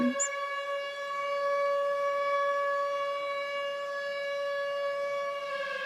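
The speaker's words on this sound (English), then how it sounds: "you just heard those sirens" A civil defense siren sounds one long, steady, wailing tone that holds loud and unbroken throughout, with no voices.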